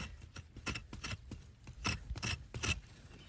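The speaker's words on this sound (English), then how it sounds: "I'm just gonna do some scraping here and we're gonna see." Bark on a California lilac stem is scraped by hand to check for winter damage, a series of close, quiet rasping strokes in an uneven rhythm, with no talking.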